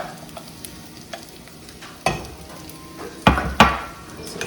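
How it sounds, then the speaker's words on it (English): Barley toasting in a pan with shallots for a pilaf: a soft, steady sizzle under several sharp scrapes and knocks of a spoon stirring against the pan. "gonna throw it in there for another 5 minutes until the barley is actually toasted"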